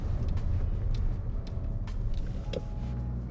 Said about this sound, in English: Oh, some tire squeal.